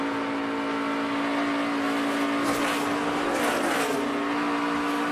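NASCAR Nationwide Series race cars at Atlanta in 2014, engines roaring continuously at high speed, with a steady loud drone and a passing surge of engine noise in the middle.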